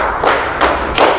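Loud group applause-style claps from a class of seventh graders playing a counted clapping ice-breaker, three evenly paced bursts in a reverberant classroom, no voices.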